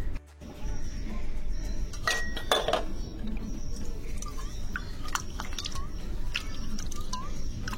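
Bronze kansa plates being rinsed and washed, with steady running and splashing water under repeated metallic clinks and scrapes of the plates knocking together, close by and without speech.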